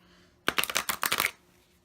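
A deck of 52 Wisdom of the Oracle cards being shuffled: one short, crisp burst of riffling cards, close and clear, in an otherwise quiet room with no speech.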